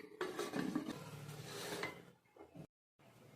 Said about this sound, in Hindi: कुकर का ढक्कन लगा देंगे।